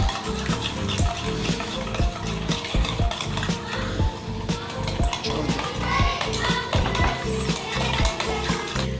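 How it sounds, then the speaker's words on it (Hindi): Eggs and sugar for marble cake batter are mixed in a bowl, giving steady, rapid, rhythmic stirring strokes that scrape and clatter close up and continue throughout without talk. "थोड़ी थोड़ी चीनी डाल के इसे हम मिक्स करते जाएंगे।"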